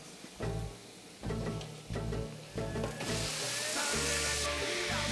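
Ground chuck sizzles loudly in a hot pan beside blistered tomatillos, a dense steady crackle that surges each time more meat hits the pan and stays loud to the end.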